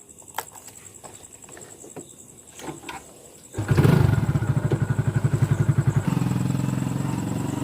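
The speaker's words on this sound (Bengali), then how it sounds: "বাইক নিয়ে যাচ্ছি আমরা 125cc" A 125cc motorcycle engine: light clatter and handling noises, then the engine fires up and settles into a close, loud, rapidly pulsing idle rhythm that continues to the end.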